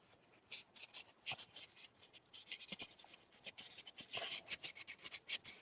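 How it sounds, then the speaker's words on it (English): The bottom part of a piece is quickly hand-sanded, giving a close, quiet series of short scratchy rubbing strokes in an irregular rhythm. "we are going to sand the bottom part, and we're just going to do a quick little sand"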